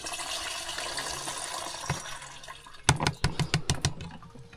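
A whole mixed batch is poured out with a rushing, splashing flow. A quick run of sharp knocks and thuds follows near the end.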